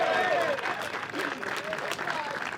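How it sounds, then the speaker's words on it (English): Spectators at a disc golf state championship applaud a player stepping onto the tee, a steady clapping crowd with voices and cheers mixed through it. "let's get a big round of applause going for Matthew"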